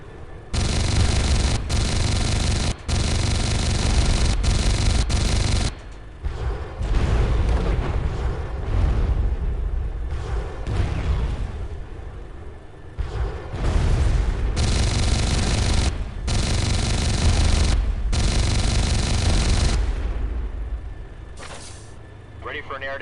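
Hydra rockets and helicopter cannon fire destroy ground vehicles in the Comanche 4 combat game, with loud, dense bursts of explosions and rapid gunfire that come in long, booming stretches separated by brief lulls.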